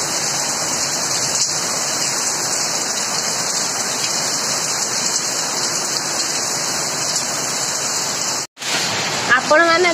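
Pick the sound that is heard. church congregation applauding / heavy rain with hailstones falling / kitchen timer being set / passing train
heavy rain with hailstones falling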